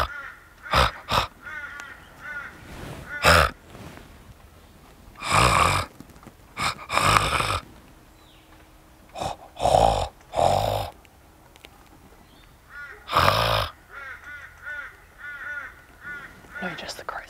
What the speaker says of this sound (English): Just the crows again.